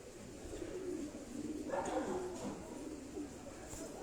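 Pigeons coo softly and at a distance in a low, muffled chorus, a few repeated calls rising briefly near the middle over faint background noise.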